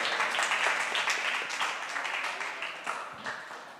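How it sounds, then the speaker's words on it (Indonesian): An audience claps during a Ramadan religious talk, giving a continuous, fairly steady round of applause at medium loudness that thins slightly toward the end. "Tepuk tangan buat beliau."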